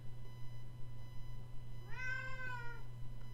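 A domestic cat gives a single clear meow, fairly faint and brief, over a steady low electrical hum in a quiet room.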